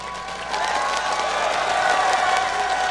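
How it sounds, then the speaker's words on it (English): A crowd at a League of Legends esports match cheers and applauds in a dense, steady roar of clapping and shouting that fills the whole stretch. "Give them a cheer."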